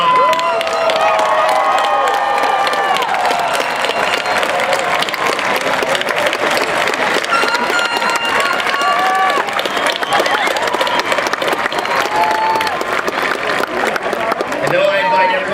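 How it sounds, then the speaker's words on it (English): Loud, sustained applause from a large crowd at a university commencement ceremony, dense clapping with scattered cheers and shouts of voices that carries unbroken across the whole stretch. "let's applaud them"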